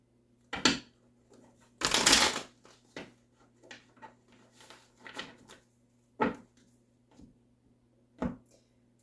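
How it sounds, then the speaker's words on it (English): Tarot cards being shuffled by hand, a burst of riffling and scattered soft card slaps and taps with quiet gaps, close and fairly faint over a low steady hum. "finish shuffling out the cards"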